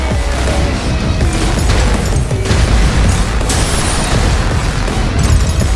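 Continuous gunfire and explosions from the survival video game Doomsday Last Survivors, a loud, dense barrage of bursts, booms and pops with no pause across the whole stretch.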